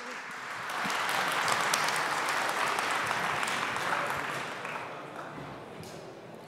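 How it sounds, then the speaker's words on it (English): An audience at a Craft Conference engineering talk applauds as a speaker takes the stage, steady moderate clapping that swells, holds for several seconds and slowly tapers off. "Applaud."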